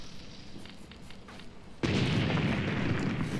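Bombs strike a burning village in the war game Graviteam Tactics: Mius Front, a quiet rumbling backdrop suddenly broken by a heavy, sustained blast roar that stays loud to the end.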